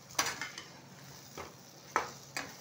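Raw banana pieces fry on high flame in a pan, a soft background sizzle broken by a few sharp scrapes and clinks of a spatula stirring, spaced irregularly.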